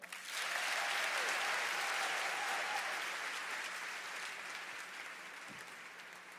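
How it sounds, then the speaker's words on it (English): A fashion show audience breaks into steady applause, a dense wash of many hands clapping at a distance that holds for several seconds and slowly tapers off. "Let's give a round of applause for the second half of our show."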